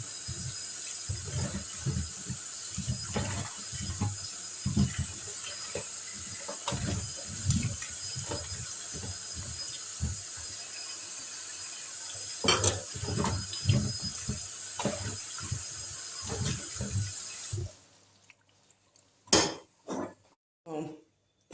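Peeled yam rinsed under a running kitchen tap, a steady close stream of water with soft knocks and sloshes of pieces being handled, ending in a few clattering bumps after the flow stops.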